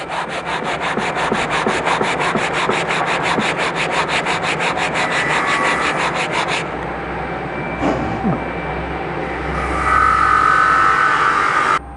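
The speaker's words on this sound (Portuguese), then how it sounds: "à medida em que você vai lixando a peça" Sandpaper on a small block rubs back and forth over a damaged wooden piece in a fast, steady scratching rhythm, close and loud, then slows to a few broader strokes.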